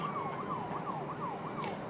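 Police car siren chasing the player in a mobile driving game, a rapid repeating wail sweeping up and down in quick cycles, steady and fairly loud throughout with no voices.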